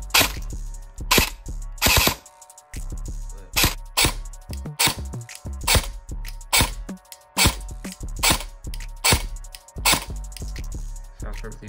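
An electric airsoft AEG rifle fires on full auto in repeated short bursts, each a loud, rapid rattle of shots close by, separated by brief pauses.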